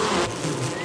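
A bee buzzes loudly and close by in a dense, steady drone, the flight of a drunken bee weaving in the air.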